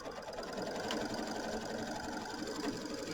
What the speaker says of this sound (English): we're going to go ahead and stitch out step number 1 here